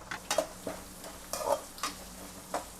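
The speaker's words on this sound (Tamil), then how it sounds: "வெங்காயம் நல்லா வதங்கி வந்துட்டுருக்கு" Onions sautéing in a pan with chana dal, curry leaves, chili and a pinch of turmeric, with a faint sizzle under a handful of distinct spatula scrapes and clinks against the pan.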